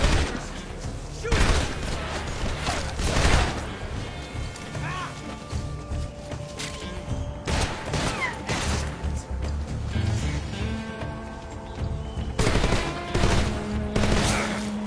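AK rifle gunfire during a boss fight in the video game Metal Gear Solid Delta: Snake Eater, with bursts of rapid shots, crashes and impacts over a busy game soundtrack, loud and continuous.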